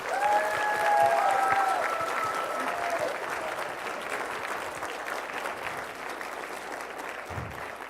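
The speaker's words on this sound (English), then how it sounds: "help me in giving a big round of applause to all of CaseIT 2024's amazing sponsors" A banquet crowd at an awards dinner gives a big round of applause for sponsors, loud dense clapping that slowly tapers, with a brief whistle-like tone and murmured voices early on.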